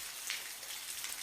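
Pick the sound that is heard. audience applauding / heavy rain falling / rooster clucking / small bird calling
heavy rain falling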